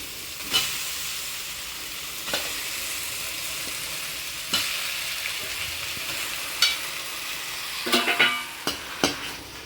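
Washed chicken stirred into softened onion, tomato and ginger-garlic paste in a pan for Chettinad chicken chukka: constant sizzling hiss broken by sharp, irregular scrapes and clacks of the spatula, close by with no voices.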